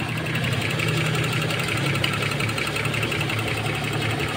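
A used car's engine running steadily at idle with a constant low hum and a slight knocking rattle, fairly loud and close, with no talk over it.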